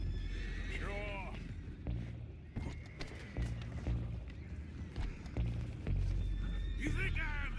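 Horses in the video game Red Dead Redemption 2 give loud whinnies at the start and again near the end, with hooves clip-clopping and someone talking over the steady background action.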